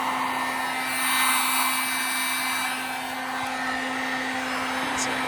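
A heat gun or hair dryer blows hot air steadily onto car window tint while it is peeled off, a continuous even whooshing hum with a steady tone running through it for several seconds, close and moderately loud.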